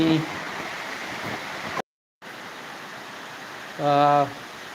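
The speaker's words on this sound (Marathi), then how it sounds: "जोरदार मुस असा पाऊस झालेला आहे छान पाऊस पडत आहे इकडं" Heavy rain falls in a steady, dense hiss, cut by a brief moment of silence. A voice speaks briefly over it near the end.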